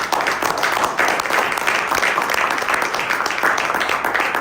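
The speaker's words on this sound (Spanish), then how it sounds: "Denle un aplauso a Jesús." Church congregation applauding during a service, a dense, continuous patter of many hands clapping at an even level for several seconds.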